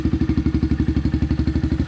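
A warm Kawasaki KLX 110 pit bike with its stock exhaust idles and revs close by, a steady rapid thumping single-cylinder putter with a rhythmic pulse throughout.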